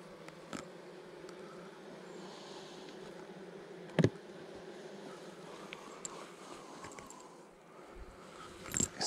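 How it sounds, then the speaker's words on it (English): Honeybees buzz around an opened hive while frames are moved, a faint steady drone close by, with one sharp knock partway through and a few small clicks. "I'm gonna knock these bees into that hive as well"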